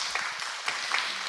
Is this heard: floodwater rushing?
no